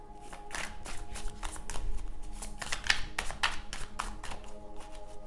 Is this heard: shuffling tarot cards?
yes